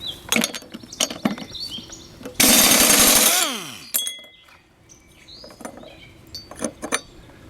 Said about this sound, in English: We're going to use an impact tool here with a 5/16 socket on here, my pancake air compressor here, to get this bolt off.